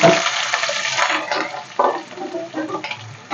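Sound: chopped onions frying in hot oil

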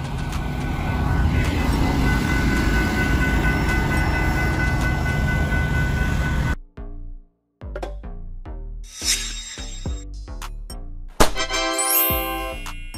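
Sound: train running on rails

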